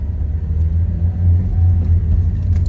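Interior drone of a 2010 Mazda 3 with short gearing cruising at highway speed, a steady low engine and road rumble with a faint buzzing hum, no talk.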